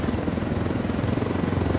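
A helicopter in the video game Ghost Recon Wildlands drones steadily, with loud, continuous rotor and engine noise throughout and no voices over it.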